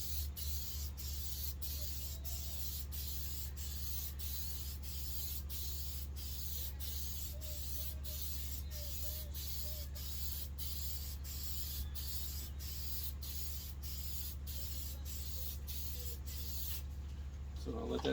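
Continuous aerosol spray hiss, steady and close, as a coat of paint goes onto a removable photo backdrop in black and blurple, broken by regular brief pauses and ending abruptly near the close.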